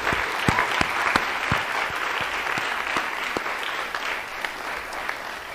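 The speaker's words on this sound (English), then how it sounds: "a big round of applause for all of their support here and at home" An audience claps in appreciation of parents, guardians, friends and family, sparse individual handclaps standing out over a moderate, steady patter that tapers slightly toward the end.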